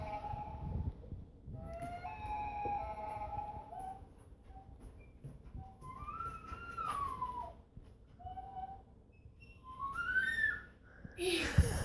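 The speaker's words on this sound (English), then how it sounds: "Lilia found a loon whistle, and Lilia is trying to practice" A loon call whistle is blown in a series of long, wavering, rising and falling tones, some sustained and some sliding, with short pauses between phrases and faint voices in the background.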